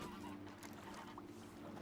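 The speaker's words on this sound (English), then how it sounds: "Geese." Geese honking in The Witcher 3 video game, several short nasal honks over a steady low background hum, moderately close, with no talking.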